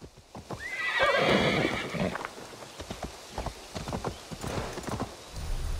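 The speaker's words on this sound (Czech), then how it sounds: "Vezmeme se na to koně." Horse galloping with a loud whinny in Assassin's Creed Valhalla, hoofbeats drumming steadily in the foreground for several seconds and continuing at a lighter rhythm.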